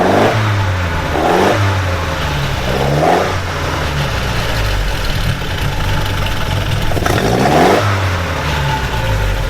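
A vintage Alfa Romeo A12 van at a classic car fair in Padova revs up three times over a loud, steady idle, each burst rising sharply and falling back, with no talking.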